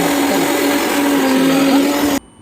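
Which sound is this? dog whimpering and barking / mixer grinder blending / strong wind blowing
mixer grinder blending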